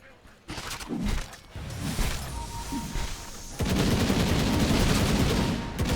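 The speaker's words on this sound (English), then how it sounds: "That's a machine gun." Machine gun fire in a Dota 2 match comes as rapid, rattling bursts that build into a heavier, sustained volley of gunfire in the second half, with game effects layered throughout.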